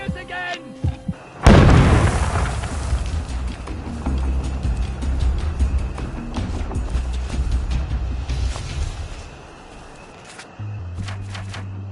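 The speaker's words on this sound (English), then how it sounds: "It's finally started! They're bombing us again!" Bombing in the game We Happy Few lands as a sudden loud, deep explosion followed by a long rumbling decay, with scattered crackles and debris clatter and a low drone returning near the end.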